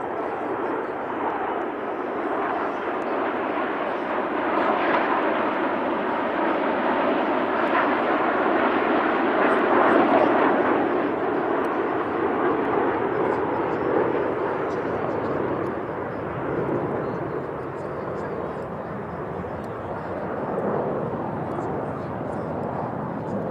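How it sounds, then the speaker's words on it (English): A steady, loud roar of a military jet formation of F-35A Lightnings, F-2000A Typhoons and T-346A Masters passing overhead at an airshow, swelling slightly midway and holding on without a break. "a 22-ship 100 formation comprising 6 F-35A Lightnings, 8 F-2000A Typhoons and 8 T-346A Masters"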